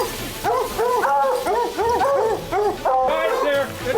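Hunting dogs bark in a rapid, repeated run of yips and bow-wows close by, the barking coming in bursts over several seconds, with outdoor activity around them during a snow cat hunt.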